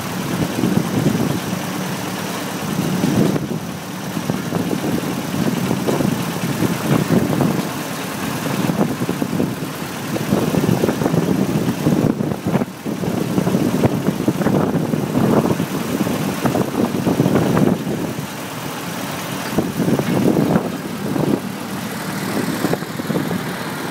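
A tractor's engine runs steadily close by while it is driven, a continuous mid-to-low rumble that swells and eases with the throttle.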